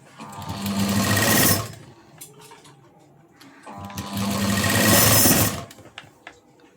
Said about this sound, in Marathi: आणि बरोबर सेंटरला शिलाई देऊन घ्यायची आहे